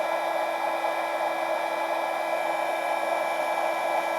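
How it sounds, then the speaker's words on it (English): An embossing heat gun blows steadily to melt embossing powder on a card, a loud continuous whirring hiss with a constant tone and no breaks. "The heat of the embossing gun will melt that embossing powder"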